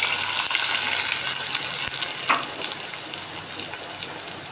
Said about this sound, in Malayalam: ഇനി നമ്മൾക്കിതിലേക്ക് ഒഴിക്കാം വറവ്.